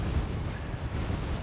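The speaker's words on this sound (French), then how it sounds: "mais bon, un vent de malade" Strong wind buffeting a microphone during a bikepacking ride through the Morvan in Burgundy, a continuous low roaring gust filling the whole moment with no one speaking.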